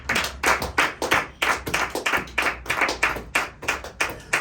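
A church congregation claps in praise of Jesus, a brisk, even rhythm of loud, crisp hand claps repeating steadily with no pause, without any voices over them.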